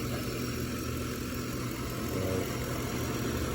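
A Lincoln Town Car Signature's 4.6-liter two-valve V8 idles smoothly with its air conditioning running, giving a steady, even low hum close by with no talking.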